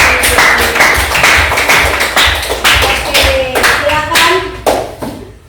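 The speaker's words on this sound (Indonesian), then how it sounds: "tepuk tangan untuk Gaby" Classmates clap for a student after a group presentation in a classroom, a close, uneven patter of hands that thins out toward the end, with brief speech at the start.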